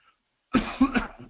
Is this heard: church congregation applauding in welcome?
no